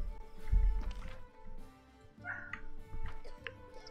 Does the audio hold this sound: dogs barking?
yes